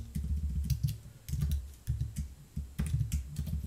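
Code being typed on a computer keyboard: close, quiet bursts of rapid key clicks separated by short pauses, with no talking.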